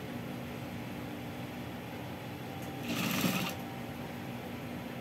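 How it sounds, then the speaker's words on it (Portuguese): A sewing machine stitches along a fabric edge, a steady low mechanical hum with a brief louder whir midway, fairly faint and alone. "costurar ele aqui na beiradinha, na hora que termina, costurar ele aqui"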